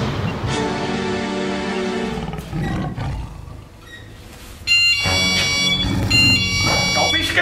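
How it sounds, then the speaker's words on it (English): A harsh electronic door buzzer sounds for about two seconds in a workshop where mowers are repaired, then stops, with muffled movement and voices after it and a second rasping tone near the end. "That's just a buzzer. Somebody's here."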